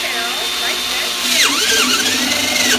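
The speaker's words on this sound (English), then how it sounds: "we're going to drill 2 holes in the barrel like" A power drill bores holes into a plastic rain barrel, its motor whining loudly and steadily, with pitch sweeping down and back as the bit bites in; it runs close and continuous with no pause.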